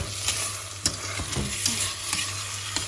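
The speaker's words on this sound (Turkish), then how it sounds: "Bu şekilde kavrulmaya devam edecek." Tomato and pepper sauce with meat sautéing in a pan for stuffed peppers makes a continuous near sizzle, broken by regular utensil scrapes and taps as it is stirred.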